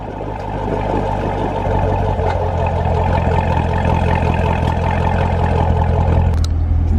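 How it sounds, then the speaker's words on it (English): A car engine with an upgraded exhaust, already set to sport mode, runs steadily at idle with a deep low rumble throughout, close and loud, with no talk. "I'm gonna turn the car on, and then it's already in sport mode."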